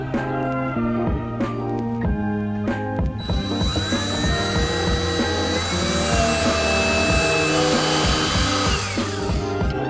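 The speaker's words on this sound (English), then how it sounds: "drill some pilot holes for these 5/8 screws" A power drill whirs in short bursts, then runs longer with rising and falling pitch as it bores pilot holes for 5/8 screws while installing an RV bed lift, close and loud.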